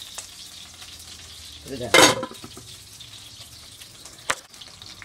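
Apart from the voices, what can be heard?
food sizzling as it cooks in a covered pan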